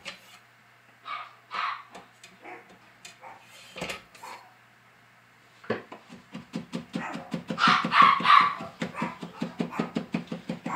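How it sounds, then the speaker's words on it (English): Dogs in a home kitchen bark in scattered single barks, then break into a fast, loud run of repeated barks and panting, close by with no talk. "Do not know why my dogs are going crazy barking."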